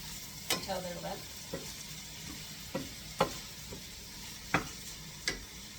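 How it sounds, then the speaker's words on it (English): Onions sautéing in about two tablespoons of oil in a pan, a soft continuous sizzle broken by several sharp clicks and scrapes of a utensil against the pan, close and fairly quiet. "I think I put 2 tablespoons in to saute these onions until they're limp."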